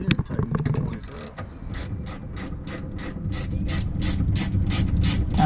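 A ratchet clicks in quick, regular bursts as bolts are tightened on a rear sway bar of an Acura Integra, close and fairly loud after a few clanks of handling at the start.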